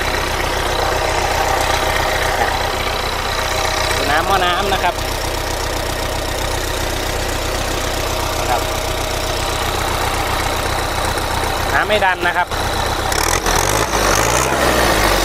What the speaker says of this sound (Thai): ทีนี้มาดูเครื่องยนต์นะครับ เครื่องไม่ไอนะครับ